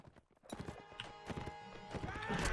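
Horse cavalry charging in Mount & Blade: Warband, with a rapid, dense clatter of hooves building and growing louder, plus a brief whinny mixed into the galloping.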